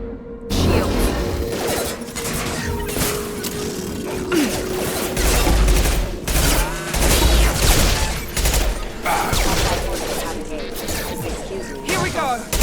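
Mass Effect combat gunfire rattles on continuously, with dense bursts, mechanical clanks and crashing impacts layered together at a steady, loud level, with a voice speaking over part of it.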